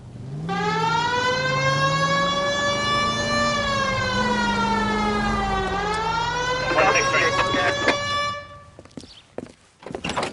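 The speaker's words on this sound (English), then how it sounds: "Hit the siren." A police car siren in the L.A. Noire video game wails loudly and alone, its rising and falling tone sweeping for several seconds before clattering engine and street noise take over.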